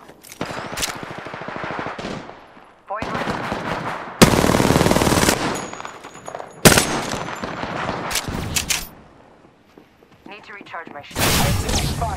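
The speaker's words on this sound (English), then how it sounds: "Getting shot at." Gunfire in the video game Apex Legends comes in several loud automatic bursts broken by short pauses, with game voices faintly in between.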